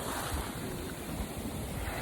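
Surf and ocean waves at a beach roll in a steady, broadband wash, with wind buffeting the microphone throughout; no one speaks.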